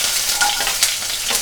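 Onion and garlic frying in hot oil in a kadhai, a steady broadband sizzle with a few brief crackles and stirring scrapes over the short stretch.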